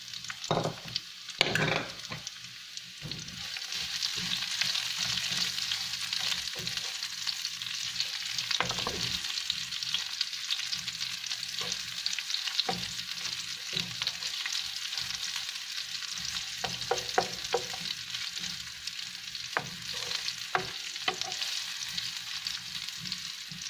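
Chopped onion sizzles and fries in a hot pan, with steady crackling and occasional scraping, clattering stirs from a utensil throughout, no voices.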